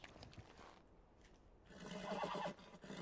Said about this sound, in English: You be a nice horse.